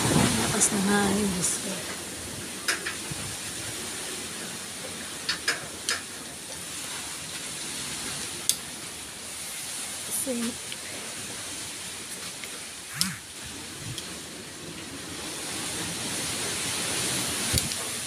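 Strong typhoon wind during Typhoon Kristine in Laguna with no rain, a steady loud rushing roar throughout, with scattered clicks and a person speaking intermittently nearby.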